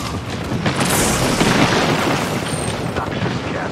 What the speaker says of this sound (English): There is an airstrike inbound.